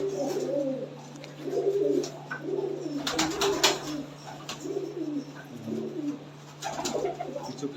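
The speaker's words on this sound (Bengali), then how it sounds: "খেলা পায়রা রয়েছে দাদার কাছে।" Tumbler pigeons coo repeatedly indoors in a room, soft throaty rolling calls recurring every second or so, fairly close, with a steady low hum underneath and no talking.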